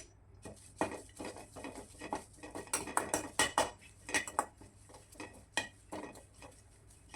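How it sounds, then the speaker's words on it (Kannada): Curry leaves frying in a metal pot for mutton sukka, with quick clinking scrapes and taps of a ladle stirring against the pot, close and fairly quiet, with a light crackle beneath. "ಈಗ ಮತ್ತೆ ಇದೇ ಪಾತ್ರೆಗೆ ನಾನು ಕರಿಬೇವು ಸೊಪ್ಪನ್ನ ಹಾಕ್ಕೊಂಡು ಸ್ವಲ್ಪ ಫ್ರೈ ಮಾಡ್ಕೊಳ್ತೀನಿ"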